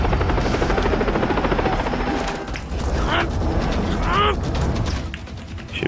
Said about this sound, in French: Il y a un hélico devant. Tire dessus.